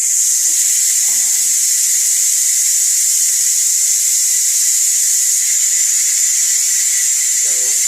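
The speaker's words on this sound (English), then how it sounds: "We're going to go ahead and release the steam." Steam venting from a Ninja Foodi pressure cooker during quick release, a loud, steady, continuous hiss that holds at the same level throughout, with faint squeaky sounds near the start and end.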